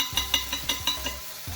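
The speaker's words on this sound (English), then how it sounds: "Excuse the frying in the background. We're making some chicken stuff tonight." Faint sizzling of chicken frying in a pan, with soft rhythmic stirring taps.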